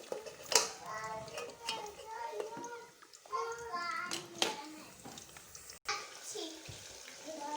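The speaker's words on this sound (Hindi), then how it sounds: "तो बच्चे जो हैं वो खेल रहे हैं, एंजॉय कर रहे हैं और चारपाई रखी हुई है उसके ऊपर से छलांगे लगा रहे हैं नीचे" Children playing and jumping off a charpai cot: kids' voices chatter and call out in bursts at a moderate distance, over a faint sizzling from a nearby pan, with a few knocks and thumps.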